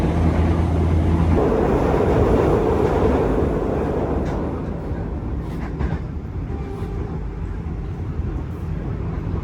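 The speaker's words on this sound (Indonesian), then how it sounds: "Kayak gini suasana ketika kita berada di dalam kereta bandara YIA." Steady rumbling and rolling hum inside a moving airport train at Yogyakarta International Airport, a constant broadband roar with faint rattles, no talk standing out.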